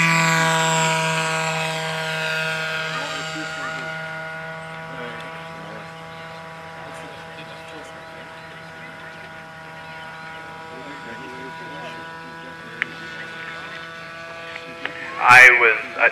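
A model airplane with a 0.61 cubic inch engine flies at an SAE Aero Design East competition, its steady droning engine tone holding throughout and slowly fading as it moves away, with a sharp click near the end.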